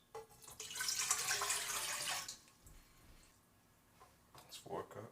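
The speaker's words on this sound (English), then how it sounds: "First, you gotta add 5 cups of water to the pot." Tap water gushes into a pot for turmeric tea for about two seconds, then stops, followed by faint clatter and some quiet speech in a home kitchen.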